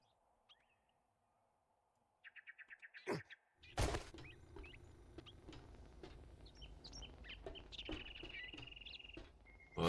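Short, rapid bird chirps from the survival game 7 Days to Die come in quick bursts after near silence, followed by a sharp knock and a busy layer of light patter and ambient game noise, with no voices.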